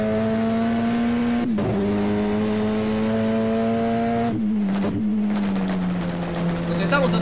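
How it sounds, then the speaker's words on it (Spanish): A Renault Fluence Super TC2000 race car at Viedma accelerates hard from inside the cabin, its loud engine droning steadily and dipping briefly at two gear changes before pulling on. "Salimos acelerando."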